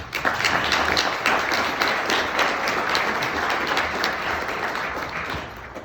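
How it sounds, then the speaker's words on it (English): Installation banquet audience for a realtors' association president gives a dense, sustained round of applause, loud and steady throughout with many overlapping claps. "we should thank all of them with a round of applause"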